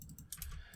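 Rapid keystrokes on a computer keyboard while code is typed, a close, steady run of soft clicks and taps with no voices.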